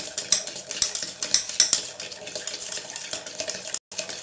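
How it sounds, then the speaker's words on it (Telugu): Dalgona coffee is whisked by hand in a large bowl, giving rapid, rhythmic scraping and clinking close up. The strokes stop briefly near the end. "సో ఇప్పుడు మనం మాన్యువల్గా చేస్తున్నాం కాబట్టి దీన్ని బ్లెండ్ చేసుకోవాలి ఇలానే"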